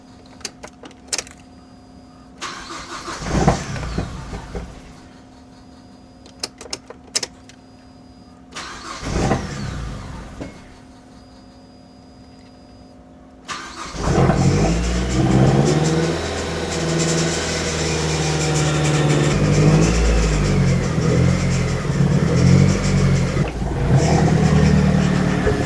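A Mazdaspeed 3 engine, sitting unused for six years, cranks in several repeated bursts with clicks between, then catches and settles into a loud, steady running rumble that rises as it revs.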